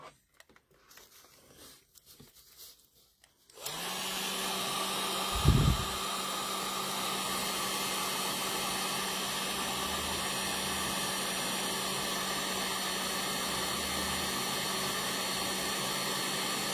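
A hair dryer blows on a painted snowman held on a skewer. It starts abruptly after a few seconds of quiet handling noise, then runs as a steady, close, continuous whir with one brief low thump.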